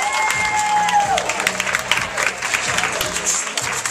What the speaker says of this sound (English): I'm sure y'all can clap a little bit louder than